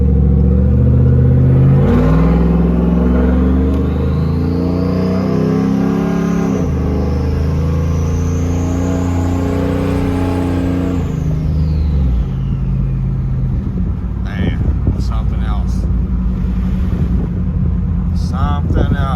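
A forged, cammed and boosted truck engine drones loudly from inside the cab on a cold-start ride, with a high whine sweeping up and falling away over the heavy rumble, then rougher throttle bursts near the end.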